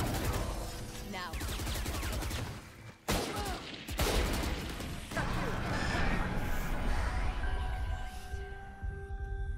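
Gunshots in the shooter Valorant, several sharp cracks over a dense, busy backdrop of match sound and a steady hum, with one prominent shot standing out midway.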